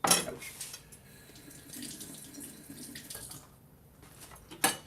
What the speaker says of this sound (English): Just running some cold water over the surface so I can handle it a little bit better.